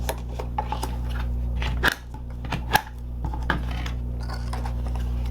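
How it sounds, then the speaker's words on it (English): Paper score lines on the inside tab piece of a birthday box card are folded and burnished, with soft scraping rubs, light taps and a few sharp crisp clicks, close up and quiet. "we're just going to fold and burnish these score lines"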